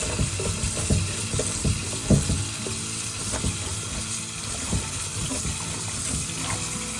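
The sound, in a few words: washing green beans in water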